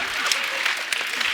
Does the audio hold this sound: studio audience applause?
yes